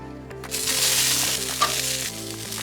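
Steak sizzles and fries on a small grill, a steady broadband hiss holding close and even throughout, with a low hum running underneath and no talking.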